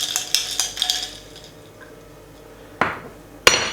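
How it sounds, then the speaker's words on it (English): A spoon stirring freshly made juice in a glass: a few quick clinking taps against the glass at the start, then soft swirling liquid, followed by two sharper knocks near the end, close and clear. "Just give it a stir"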